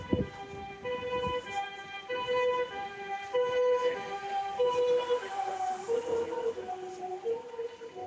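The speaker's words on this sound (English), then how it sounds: "I live by a fire station, and so there's always sirens here." Wailing fire engine sirens sound steadily, layered and rising and falling, over a dull rumble of traffic, with no talking.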